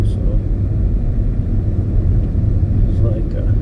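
A car driving in 5 o'clock off-island rush-hour traffic on a commute between Venice and North Port, Florida, giving a steady, loud, close low engine and road rumble that carries on without a break.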